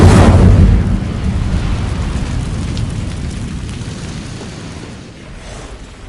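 A fire spell, Incendio, is cast in a video game, bursting out as a loud whooshing boom and then fading into a long roar of crackling flame that slowly dies down, with no voices over it.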